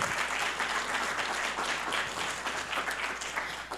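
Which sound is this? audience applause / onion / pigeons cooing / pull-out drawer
audience applause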